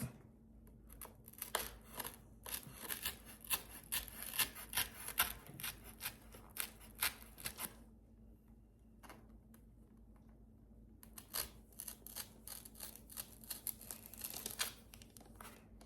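Scissors cut a small piece off craft material for ring pops, with rapid, close snipping and rustling in two bursts separated by a short quiet gap, no talking.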